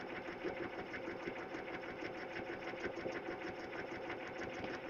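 A sewing machine runs steadily, back stitching through a faux leather pouch for an embossed bag tag, with a continuous close whirring drone and rapid needle rhythm throughout, no voices.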